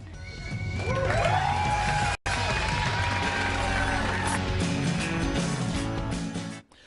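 Studio audience on a late-night comedy talk show breaking into sustained applause and cheering, loud and steady for several seconds with a brief cut partway through, mixed with crowd noise and voices.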